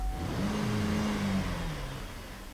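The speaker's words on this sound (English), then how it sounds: "Let's start the car up real quick." A car engine cranks and starts, then settles into a steady low idle with a rising whine as it catches, loud and close with no talk over it.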